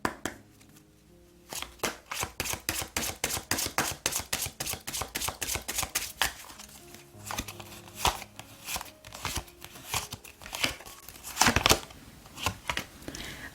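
Oracle cards are shuffled and handled for a reading, a rapid run of crisp riffling flicks followed by slower, irregular slaps and slides of cards, close and clear with no talk.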